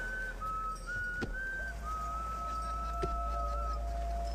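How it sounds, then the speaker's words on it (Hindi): A man sitting in a jeep whistles a slow, wavering melody of long held notes over a steady low rumble, with occasional faint knocks. "बस एक पागल आदमी है जो जीप में बैठा सीटी बजा रहा है।"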